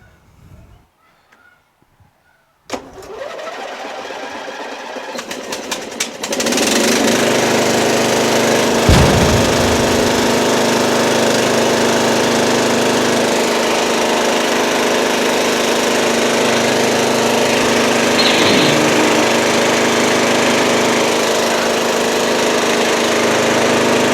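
An MTD Yard Machines riding mower engine, freshly pressure washed, cranks briefly, then catches and roars into a steady, loud, constant run that continues unbroken to the end.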